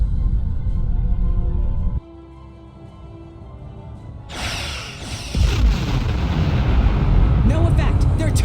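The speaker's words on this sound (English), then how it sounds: "Target that ship, and fire all weapons!" Starship weapons firing during a space battle in Star Trek Online, a loud broadband barrage of booming energy blasts and rumbling impacts that swells after a quieter stretch of drones and sweeping tones, with a voice heard early on.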